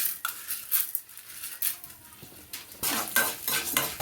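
Lentils, black pepper, coriander, cumin, sesame and tamarind are dry roasted in a pan for curry leaf powder, with a spoon scraping and stirring against the metal in steady close rustles and clinks, and no voices.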